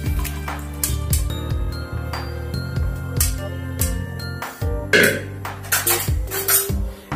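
A metal frying pan is set down on the stove and chicken liver mixture is added, with clattering pan and utensil clinks and scrapes in irregular bursts close by.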